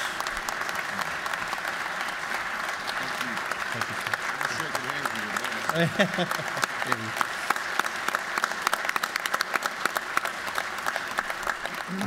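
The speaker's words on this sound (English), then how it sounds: "that many people clapping for me" Members fill the Georgia House chamber with steady, sustained applause for a speaker, a continuous mid-distance wash of clapping with a brief murmur of voices partway through.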